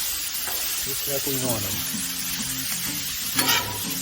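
Shrimp sizzle on a Blackstone flat-top griddle with garlic for shrimp scampi, a constant hiss and crackle with spatula scrapes, while someone talks over it.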